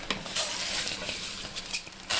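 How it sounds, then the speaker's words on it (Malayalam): Rice being fried with spices in hot ghee for mutton dum biryani, a steady close sizzle with soft scraping stirs over a few seconds, no talking. "ഇതിലേക്ക് അരി ചേർത്ത് കൊടുക്കാം."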